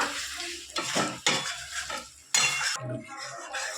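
Partly boiled potatoes and spices sauté in oil in a pan for aloo dum, with a spatula stirring and scraping in short bursts over a soft sizzle. The sound is close and moderately loud, with no talking.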